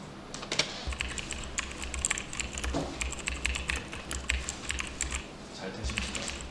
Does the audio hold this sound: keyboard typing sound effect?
yes